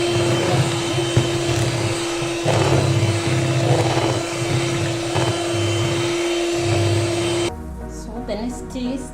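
An electric mixer whirs steadily through cupcake batter, droning loud and close in uneven bursts as it works the flour in, then cuts off near the end, leaving a quieter room.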